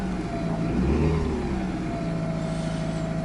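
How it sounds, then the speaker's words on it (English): A car engine idles steadily after a coil pack replacement, now running smoothly without misfire, a close continuous hum with no talk over it. "Start the motor and see."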